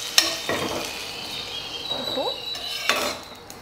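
Aviyal being stirred in a pot right after the tempering goes in: a soft, steady sizzle runs underneath, with a few distinct scraping clinks of the spoon against the metal, close and fairly quiet.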